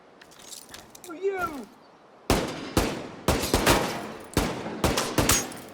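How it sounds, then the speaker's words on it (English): Incoming gunfire rounds crack in The Division 2, a series of sharp, loud bursts of shots in irregular clusters, with a voice speaking briefly over the start. "Oh, listen to those rounds coming in."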